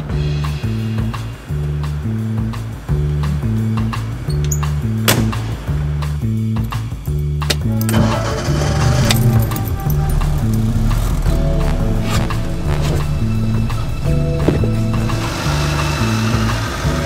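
A classic Fiat 600D's small rear engine putters in a steady, rattling rhythm with sharp clicks and knocks, then picks up and grows busier as the car pulls away, close and loud.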